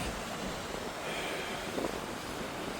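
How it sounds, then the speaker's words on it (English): A small waterfall on the path to the Bone Caves at Loch Assynt in February, giving a steady broadband rush of falling water, close and unbroken, mixed with some wind buffeting on the microphone. "There's a little waterfall here on the path to the Bone Caves."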